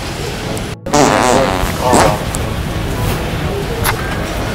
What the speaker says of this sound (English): I thought I heard a fart.